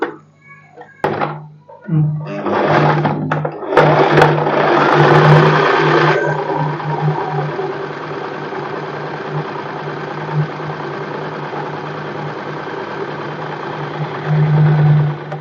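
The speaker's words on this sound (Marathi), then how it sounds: "ह्या कडेने दापशिलाई मारायची" A sewing machine runs a line of top-stitching along the edge of blouse fabric for a padded princess-cut blouse, a steady close motor whir with a few knocks and a start-up burst near the beginning.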